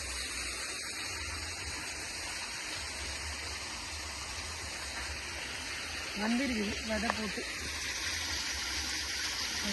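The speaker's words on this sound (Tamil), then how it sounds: "தண்ணி எப்படி வருது பாருங்க மேலே வந்து" River water rushes steadily in a continuous flowing roar while someone talks briefly over it.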